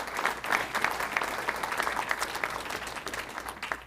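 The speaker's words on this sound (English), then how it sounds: "So how about a round of applause for everybody who contributed?" Audience applause at a county government presentation, a crowd clapping steadily with scattered louder claps, fairly close and continuous throughout.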